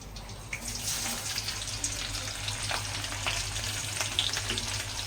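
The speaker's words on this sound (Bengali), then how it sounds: "এবার আমি তেলের মধ্যে এই রসুন কুচি আদা কুচি লঙ্কা কুচিটা দেব" Steady sizzle of chopped garlic, ginger and chilli frying in oil, with crackling pops throughout, close and fairly loud, with a low hum underneath; no voices.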